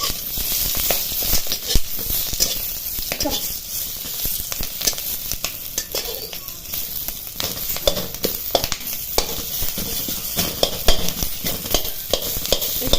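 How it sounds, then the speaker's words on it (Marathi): Already-roasted onion sautéed and stirred in a pan, with a constant close sizzle and frequent scraping strokes of a utensil. "हा कांदा ऑलरेडी भाजलेला आहे पण एक दोन मिनटं त्याला परतून द्यायचे"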